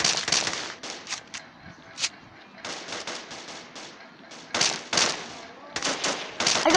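Gunfire in the Kuboom shooter game, short sharp bursts of rapid shots with brief gaps between them, loud and close, with a voice talking between the volleys.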